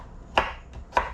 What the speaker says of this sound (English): Keep on chopping.